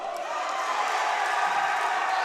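A crowd at a women's college volleyball match between Boyce College and Kentucky State University gives off a steady, full wash of cheering and murmur, with no clear single voice.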